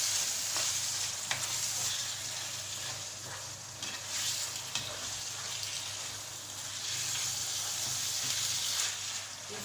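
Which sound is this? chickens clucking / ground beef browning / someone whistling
ground beef browning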